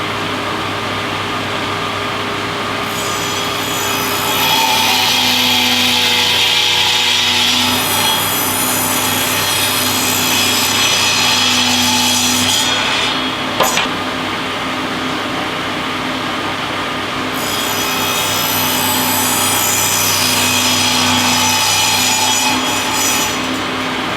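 A hand saw cuts through an 8-foot wooden board, a continuous loud rasping stroke rhythm close by with a short pause midway before the sawing resumes.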